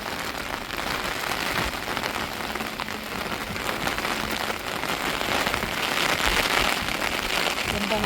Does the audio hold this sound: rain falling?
yes